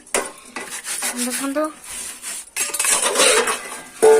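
Pots, pans and dishes clatter and scrape while being scrubbed at a home kitchen sink, with metallic clinks and rubbing throughout and people talking over it.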